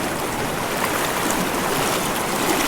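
River current rushing steadily close by, a dense continuous wash of flowing water with no voices.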